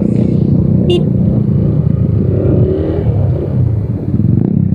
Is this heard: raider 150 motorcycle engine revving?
yes